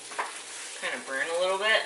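Garlic sizzles in a hot frying pan with ghee-free oil crackle, a steady close fry with a few spoon scrapes, while a voice talks over part of it.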